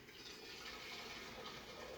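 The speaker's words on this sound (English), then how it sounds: "to warm the pot, take your freshly boiled water," Freshly boiled water poured into a teapot to warm it, a steady soft splashing rush lasting about two seconds, fairly faint and with no voices.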